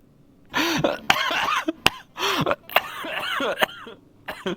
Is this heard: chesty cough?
yes